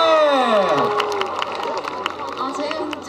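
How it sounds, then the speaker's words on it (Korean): A crowd at an outdoor public radio broadcast in Dongtan Central Park claps and cheers, a steady wash of applause and shouts under voices lasting a few seconds. "다시 한번 크게 박수 주세요."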